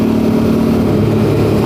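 Aprilia Tuareg 660 adventure motorcycle engine running while riding, a loud low droning hum close up that stays steady with slight pitch shifts.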